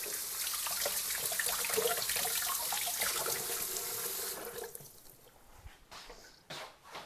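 Blueberries being rinsed under a running kitchen tap: a steady, fairly close rush of water for about four seconds, then the flow stops, leaving a few scattered splashes and drips.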